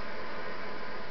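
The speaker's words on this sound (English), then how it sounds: "this is what they use for a lot of the noise, like the crowd noise" Steady hissing static crowd roar from the Intellivision World Series Major League Baseball game, a flat, continuous electronic noise with no breaks.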